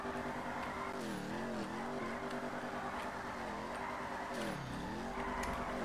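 A Mustang GT drifting in the video game FiveM, its engine revving with swooping pitch while the tires squeal in long skids, steady and close with no talk.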